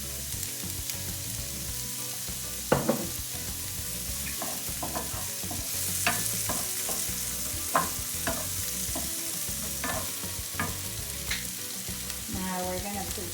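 Shrimp sizzle in olive oil in a pan for encocado de camarón, a steady close hiss broken by scattered sharp clicks and taps from stirring, with no voices.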